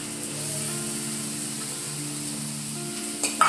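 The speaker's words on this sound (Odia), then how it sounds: "ଏବେ ମୋର ପିଆଜଟି ଭାଜି ହୋଇଗଲାଣି ଏବେ ମୁଁ ସେଥିରେ ମଞ୍ଜି ପକାଇଦେବି" Chopped onions and seeds frying together in a pan, giving a steady, close sizzle that holds evenly throughout, with a faint scrape near the end.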